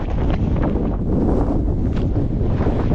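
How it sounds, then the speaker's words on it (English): Loud, rumbling wind buffets the microphone without letup, a dense low roar with gusty flutter throughout. "sorry about the wind"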